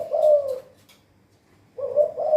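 A dove coos twice, low soft hooting phrases separated by a short silence, close and clear.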